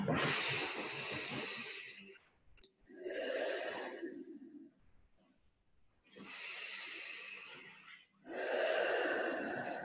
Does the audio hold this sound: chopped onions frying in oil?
no